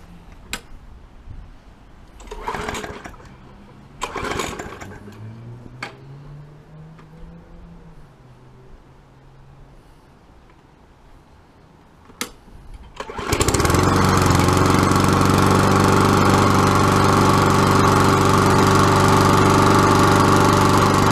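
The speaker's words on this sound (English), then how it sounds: "Okay, so we're gonna go ahead and start this one up." Several sharp pull-start tugs and a sputtering attempt, then a lawn mower engine roars to life and idles loudly and steadily.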